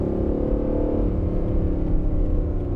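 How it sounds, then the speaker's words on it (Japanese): Front-engine, rear-wheel-drive Aston Martin Vantage on winter tyres running at full throttle on snow at minus 25 degrees: a steady, loud engine drone with a dense low-end roar held throughout, no talking. "アクセル全開です。 これ全開です。"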